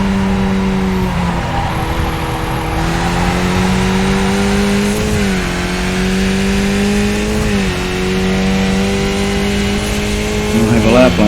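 Race car in a racing video game at a Japan track, a loud, sustained engine drone with pitch shifting as it revs through gear changes, tires squealing while drifting near the end, under occasional talk.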